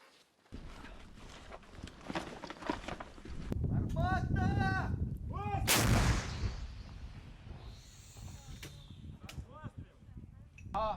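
An artillery cannon fires on the Bakhmut front, a heavy booming blast with a sharp burst of broadband noise cutting through ongoing background activity, with voices speaking before and after.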